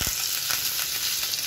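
Chopped curry leaves crackle and sizzle in hot oil for a tempering poured over rava dhokla, a steady bright hiss with a few sharp pops, close and loud.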